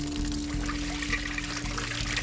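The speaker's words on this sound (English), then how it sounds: "The contents of the stomach come gushing out." Water gushes out of an alligator's pumped stomach, a loud continuous splashing pour under a steady low hum, short and unbroken.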